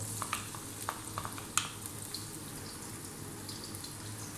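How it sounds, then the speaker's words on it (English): Onion and ginger dropped into sunflower oil in a wok over high heat, giving a steady, soft sizzle with a few light stirring clinks near the start. "We're going to start off by dropping in our onion"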